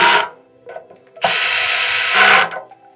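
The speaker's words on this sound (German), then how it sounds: "Nun setzen wir die Abdeckung wieder oben auf und befestigen die mit den 4 Schrauben." A power screwdriver drives one of four screws into the cover of an LG Prime battery storage unit, a short whir, a pause, then a longer steady drive of about a second, fairly close and loud.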